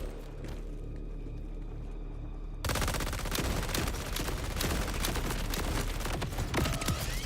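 A security camera turret in Borderlands 4 opens fire inside Moxie's bar, cutting in abruptly with rapid, sustained bursts of loud gunfire over a low game rumble and continuing to the end.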